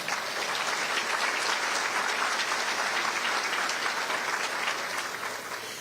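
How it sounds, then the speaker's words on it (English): An audience at a county State of the County address keeps up steady, dense applause from start to finish, heard from a moderate distance with no voices on top. "That's worth an applause."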